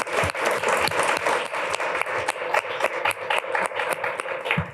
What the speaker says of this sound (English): So let's do a round of applause for these two experts.